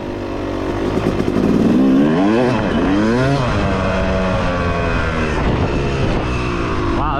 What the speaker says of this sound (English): this is gonna be the test with the 9 ounce Steely flywheel weight installed on the bike